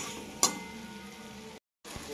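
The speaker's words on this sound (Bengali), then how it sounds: "এর মধ্যে আমি কড়াইশুঁটিগুলো দিয়ে দেবো, দিয়ে এর সঙ্গেই এটা নাড়তে শুরু করব" Peas stirred into sizzling spice masala in a wok-style pan, a brief close sizzle with one sharp clink of a spoon near the start, then a short silent gap and faint stirring.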